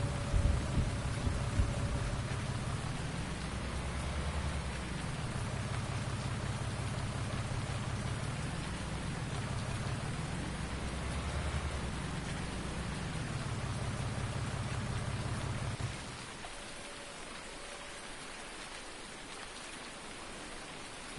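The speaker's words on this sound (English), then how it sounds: "while it continues to rain" Rain falling in Farming Simulator 19, a steady broadband downpour with low rumbling swells like distant thunder, continuing for about sixteen seconds before dropping away to a much quieter hush.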